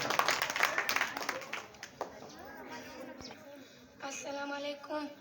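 A burst of audience clapping at the start, welcoming a student onto a stage, fades away, leaving people talking nearby.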